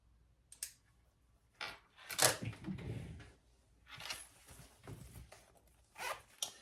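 A zipper on a leather shoulder bag pocket is pulled open and shut in several quick rasping strokes, close and quiet, with small clicks and handling noises between them.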